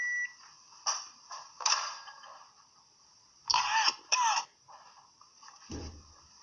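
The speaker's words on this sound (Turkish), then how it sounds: "Böyle her şeyi yersen öksürürsün böyle." A man coughs and clears his throat after eating, in several short raspy bursts spaced over a few seconds, with a steady electronic tone in the background and no talk.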